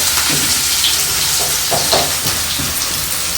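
Curry leaves hitting hot oil give a loud, dense, close sizzle that holds steady for a few seconds with faint spattering crackles.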